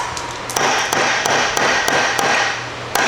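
A hammer taps sharply and repeatedly on a gasket cutter to cut a drain plug gasket for a 1968 Buick LeSabre, about nine crisp metallic strikes at an uneven pace over a steady background hum.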